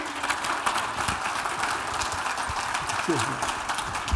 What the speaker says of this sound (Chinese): 我们是不是最后给创办人一个最热烈的掌声？